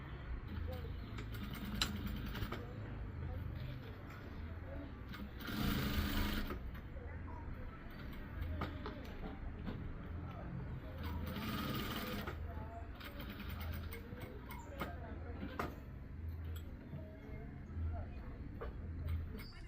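A sewing machine stitches the lining of a party frock in a tailoring shop, a faint ongoing mechanical clatter with two brief louder bursts of fast stitching.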